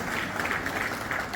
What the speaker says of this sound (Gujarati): મિત્રો જોરદાર તાળીઓ.